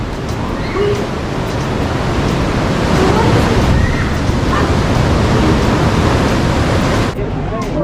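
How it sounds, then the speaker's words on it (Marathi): Sea waves at high tide wash onto Devghali beach in a steady, loud roar of surf, with wind buffeting the microphone throughout before the sound drops away near the end. "भरती आली आहे त्यामुळे पाणी वाढलं आहे"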